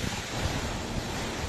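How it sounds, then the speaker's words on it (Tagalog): Strong wind from Typhoon Ofel battering Cagayan, a brief, loud, steady roaring rush with no voices. "nakabibinging hangin ang humampas sa iba't ibang bahagi ng Cagayan sa pananalasa ng bagyong Ophel"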